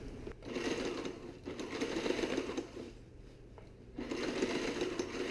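Close, loud sewing machine stitching a seam that joins two bimini canvas panels, running in two bursts of fast rhythmic needle chatter separated by a brief quieter pause.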